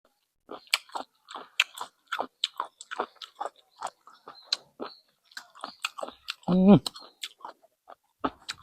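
Crunchy chewing and biting while tasting a spicy salad of cherry snails with chilli and shallots, close and repeated in irregular bites, with a voice speaking over it.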